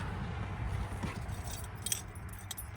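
Car keys jangle and clink close by in short metallic bursts over a steady low hum, inside a 1986 Nissan 300ZX.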